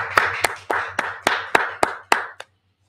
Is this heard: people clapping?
yes